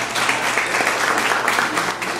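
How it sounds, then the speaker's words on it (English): A crowd applauds loudly and continuously at a Budweiser Clydesdales appearance, a dense, even wash of clapping with no pauses. "let's give Zach a round of applause"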